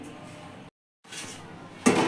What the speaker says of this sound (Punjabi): ਆਪਾਂ ਇਸ ਤਰੀਕੇ ਦੇ ਨਾਲ ਇਹਦੇ ਡੋਂਗੇ ਨਾਲ ਢੱਕ ਦਾਂਗੇ